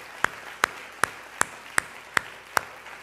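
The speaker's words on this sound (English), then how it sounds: "Would you clap your hands for everybody that's watching wherever they are in the world today?" Church congregation at an Easter Sunday service clapping hands, heard as seven sharp, evenly spaced claps at a slow steady rhythm, distinct and fairly close against a quiet room.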